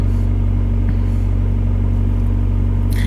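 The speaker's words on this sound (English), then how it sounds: "instead of just let it idle, just kick the RPMs up just so everything works" A 2005 VW Passat TDI diesel engine, already partly warmed after a cold start, holds a raised idle with a loud, steady low rumble and clattering drone, close and continuous, no one speaking.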